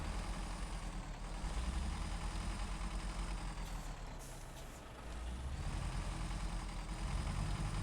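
Bandit truck from the game Snowrunner driving, a steady low engine rumble with faint air-brake hiss, dipping briefly then rising again, with no talking.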